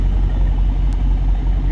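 A Mercedes-AMG GT63S engine gives off a brief, steady, deep rumble close by, low and even throughout.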